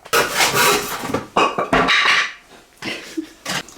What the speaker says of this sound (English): Hand sawing, if you want to cut it straight, it's pretty simple.